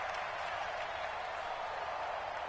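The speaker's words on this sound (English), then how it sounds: "The crowd here in the Dome making things difficult." Steady roar of a crowd inside a domed stadium in a football video game, a continuous wash of cheering and applause-like noise, fairly faint and unbroken throughout.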